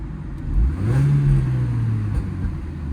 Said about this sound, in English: let's just give it a little rev